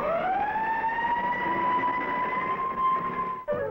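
An Army fire engine siren wails loudly and steadily as the truck pulls out, holding a sustained rising-then-level tone for several seconds before a brief break near the end.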